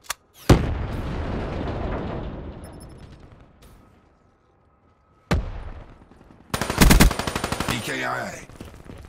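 In a Black Ops 3 firefight, a frag grenade goes off with a loud booming blast that rumbles away into a long tail, then another heavy burst hits and rapid automatic gunfire rattles in quick succession.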